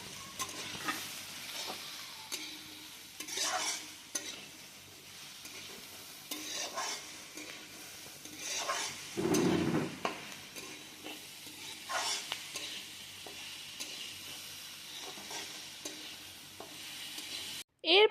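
Vegetables for Bengali-style veg fried rice sizzling in a pan while being stirred, with soft repeated scraping strokes over a quiet frying hiss and a louder clatter near the end.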